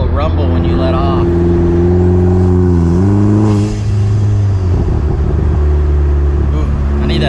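A car fitted with a catless BNR downpipe, heard from inside, gives a loud, deep exhaust drone that shifts pitch as the throttle lifts, then settles into a low rumble on lift-off, with a voice speaking over it.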